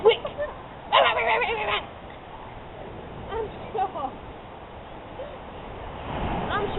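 Seagull calls cut through steady outdoor background noise in two short harsh, honking bursts, an early cluster and a later, fainter pair, with a brief cry at the start and a rising murmur near the end.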